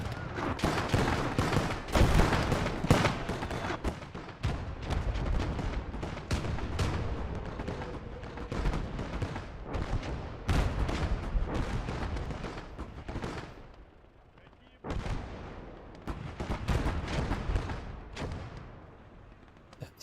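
Dense, continuous rifle and machine-gun fire mixed with heavy artillery booms in a Battle of Stalingrad strategy game, loud and chaotic with a brief lull partway through.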